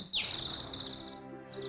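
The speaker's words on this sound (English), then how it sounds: "Oh, listen! A nightingale!" A nightingale sings outdoors in a short burst of bright, high chirping warbles. The phrase is loud and close and breaks off briefly before resuming.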